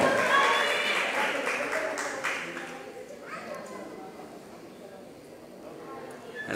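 Crowd applause and cheering at a boxing match in Nayarit, strongest at the start and then fading into a lower murmur, with an announcer talking over it throughout.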